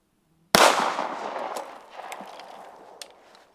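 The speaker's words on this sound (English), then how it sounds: "Way bigger of an explosion." A sudden sharp blast bursts out with a loud crack as a bullet hits a water container, then a spattering, splashing tail that fades over a few seconds, with a couple of small knocks.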